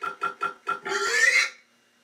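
A pig oinks in a quick run of four short grunts followed by a longer, higher squealing oink, close and clear with no talking.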